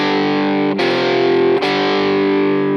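Distorted electric guitar riff in a Texas style, sustained ringing chords with a moving inner voice, two quick pick attacks breaking the drone, loud and close with no talking.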